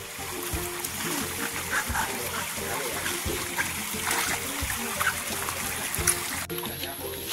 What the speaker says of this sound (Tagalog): ang sapa nga po niya is running water pa